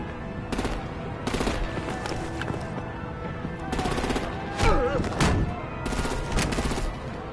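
Artillery gunfire in the video game Batman The Enemy Within, heard as several bursts of heavy fire that come and go over a continuous rumbling battle background, with no talking.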